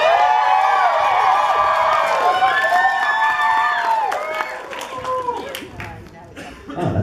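A convention crowd at an anime dating game event cheers and whoops loudly with scattered clapping, voices fading toward the end.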